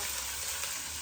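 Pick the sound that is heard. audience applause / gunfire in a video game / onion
onion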